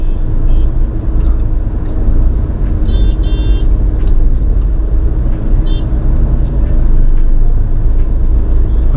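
Heavy road traffic on the Shimla to Manali route near Mandi, with a loud continuous rumble of vehicle engines, tires and road noise and occasional faint high squeaks or horn-like chirps throughout.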